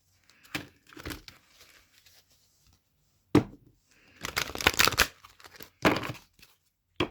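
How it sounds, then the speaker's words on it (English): A Goddess Guidance Oracle card deck is shuffled by hand in a few quick, crisp bursts of riffling and papery slapping, separated by near-silent pauses, close and fairly soft. "I'm just going to give this a quick shuffle"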